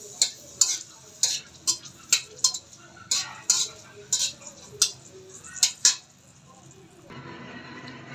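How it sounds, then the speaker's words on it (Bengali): Dried red chillies frying in hot oil to temper dal, with a run of sharp crackles and spoon taps against the pan about every half second, fading into a soft sizzle. "এখন কয়েকটা শুকনো মরিচ দিয়ে দিচ্ছি"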